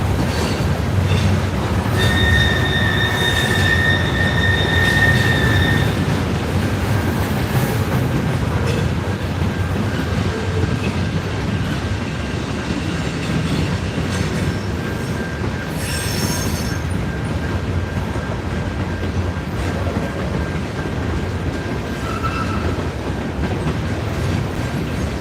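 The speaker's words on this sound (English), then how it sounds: "I heard the train coming." A Norfolk Southern freight train rolls past continuously and loud, with a steady rumble of railcars, wheel squeal and occasional metallic clatter throughout.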